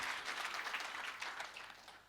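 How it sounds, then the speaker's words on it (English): A short stretch of steady applause from a conference crowd at an ICT summit, moderately loud and fading slightly toward the end. "Oh, another round of applause for the UNAM Robotics."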